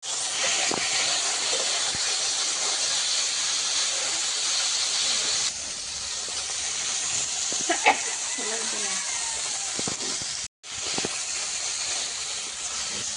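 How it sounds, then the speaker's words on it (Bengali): Lote fish frying in a pan after being rubbed with spices and a little salt, a loud, steady hiss close up that drops briefly partway through, with a voice talking over it. "এক পিঠ ভাজা হয়ে গেছে, আর আরেক পিঠ ভেজে নেব।"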